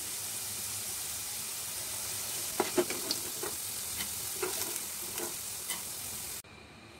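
Potatoes fry in a pan of oil with a constant bright sizzle and scattered clinks and scrapes from stirring, before the sound cuts off abruptly near the end.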